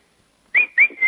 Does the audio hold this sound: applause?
no